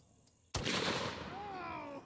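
A WW2 Boys anti-tank rifle fires one deafening shot at close range after a moment of quiet, and a long rumbling echo follows the blast.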